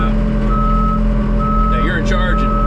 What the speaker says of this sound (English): Whenever you're going backwards, it automatically turns on the beeping